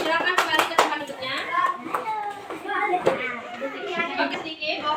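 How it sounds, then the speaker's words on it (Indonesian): A class of students claps for their classmates after a presentation in a school lesson. The hand claps are sharp, uneven and fairly close, with children's voices and chatter mixed in throughout. "tepuk tangan untuk teman-teman kita"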